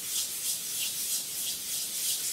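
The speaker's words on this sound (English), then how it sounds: "You can sand off the tips a little bit more to make them thinner." Sandpaper rubbing along the tips and edges of a balsa-type stabilizer for a catapult-launch model glider, a steady, close, hissing scrape in even back-and-forth strokes with no talking.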